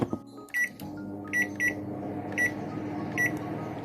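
A microwave oven heating Thai suki, with a steady low running hum and a series of short, bright electronic beeps, about six in total, spaced irregularly and close by.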